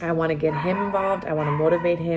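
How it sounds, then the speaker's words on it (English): A dog barks and yips in the background of a casual indoor chat, its short calls mixed in and partly masked by a person's steady talking throughout. "I apologize for my dog in the background."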